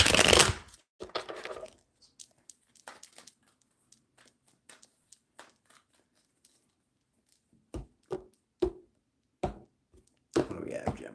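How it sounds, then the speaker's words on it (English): Tarot cards being shuffled by hand, with bursts of riffling and soft card taps spread across the clip, clustered at the start and again near the end, between quiet gaps and without talk. "We'll do one more shuffle."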